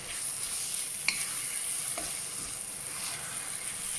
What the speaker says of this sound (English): So we'll fry them for a bit.